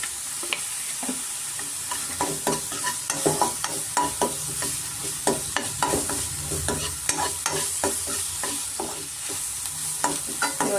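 Ingredients for tomato egg rice, including capsicum, fry in a pan with a continuous sizzle and frequent rhythmic scraping and stirring clicks from a spatula, close and without speech.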